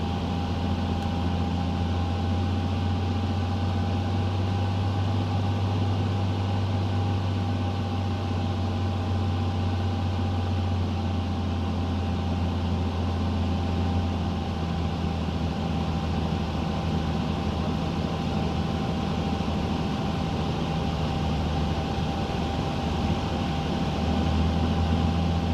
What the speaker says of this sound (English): I was requested to do a low fly past with all lights blazing